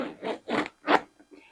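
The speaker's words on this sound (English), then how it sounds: "So the bag only has one zipper and it goes all the way down." A leather satchel bag's zipper being drawn open in a few quick, scratchy pulls, close and fairly loud, then a couple of fainter rasps as it finishes.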